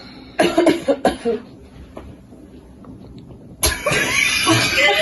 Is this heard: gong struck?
no